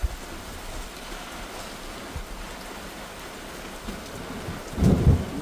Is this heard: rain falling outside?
yes